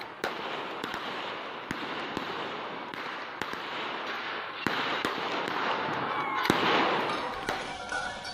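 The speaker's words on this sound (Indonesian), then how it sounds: "polisi sempat memberi tembakan ke udara untuk menghentikan aksi penjarahan" Sharp, distant gunshot cracks ring out one after another during a police response to looting at a nickel industrial park in Morowali, over a steady roar of crowd and background noise.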